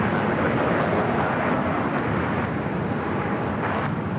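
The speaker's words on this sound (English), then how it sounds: "This is Southwest Airlines Flight 4090 heading to Denver, a 737-700" Close and loud, a Southwest Airlines Boeing 737-700 bound for Denver roars steadily at Los Angeles LAX, its dense jet engine noise filling the short stretch without a pause.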